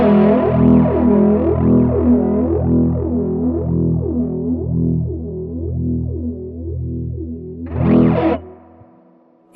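Cosmodio Instruments Splinter Twin modulation pedal with its preamp cranked, driving a loud distorted guitar chord through sweeping flanger-like modulation that rises and falls rhythmically as it decays, followed by a short burst of strumming, with no talking.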